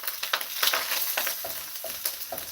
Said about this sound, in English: So we're stirring this up.